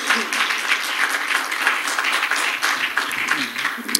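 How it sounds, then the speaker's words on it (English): Church congregation clapping during a Sunday School service: sustained, lively applause from many people, steady and fairly loud, with voices and murmurs mixed in underneath. "let's just clap unto the Lord."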